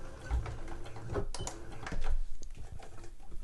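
A sewing machine back stitches across a trouser pocket, a close, busy mechanical whir with rapid needle ticks that briefly changes pace midway as the stitching reverses, running steadily for a few seconds with no talk.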